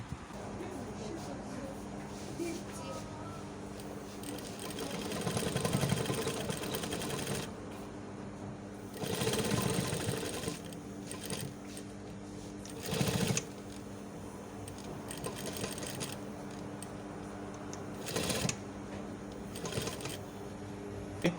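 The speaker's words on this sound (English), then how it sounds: "I am done sewing out this particular one" A sewing machine stitches a welt pocket in a run of bursts, its steady mechanical whir rising and pausing between seams, close and fairly quiet, with no talk over it.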